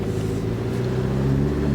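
A John Cooper Works edition Mini Cooper rolls along on a test drive, its engine a steady, fairly quiet low hum with a faint rumble throughout.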